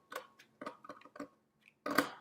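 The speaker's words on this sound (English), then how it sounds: "Do that with our scissors." Scissors snip through a folded sheet of paper in a quick series of short, crisp cuts, close and clear with quiet gaps, ending in one longer cut.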